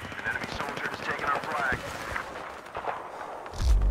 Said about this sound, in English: they're shooting our friends from behind